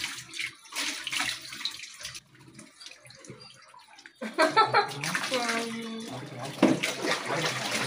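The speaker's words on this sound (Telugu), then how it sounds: "ఏంటి చల్లగా వస్తుంది వాటర్ ట్యాప్ తిప్పుతుంది అది." Tap water runs and splashes during a puppy's first bath, a steady wash of flowing water with brief pauses, while a person talks over it and the puppy makes small whimpers.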